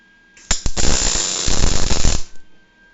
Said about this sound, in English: so I'm going to try and get it on the other side and get a solid connection here